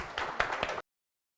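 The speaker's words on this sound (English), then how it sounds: "let's give a round of applause for our speakers and welcome them on stage" Brief audience applause welcoming speakers on stage at an in-person office workspace conference, a short patter of clapping that cuts off abruptly into silence.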